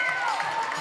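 A crowd applauds a national-level skating medal winner at a prize distribution ceremony for the Mistry Champions League 2022, a short steady burst of clapping with voices mixed in.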